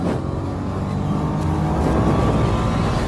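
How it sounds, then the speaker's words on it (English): Nissan Juke-R held in third gear and accelerating through a corner, a dense continuous engine roar mixed with road and wind noise, heard from inside the car. "staying in 3rd gear, back on the throttle, just trying to build the speed through the corner"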